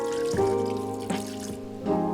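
Filtered water poured for cooking a vegan pumpkin risotto, a short close trickling pour with tonal gurgles and a few brief surges, no voices.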